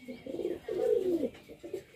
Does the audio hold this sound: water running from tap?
no